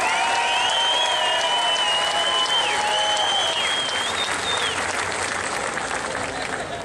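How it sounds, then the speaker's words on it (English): Steady audience applause at an awards gathering, a dense wash of clapping from a crowd with faint cheering and voices underneath, easing slightly toward the end. "Give them a big round of applause."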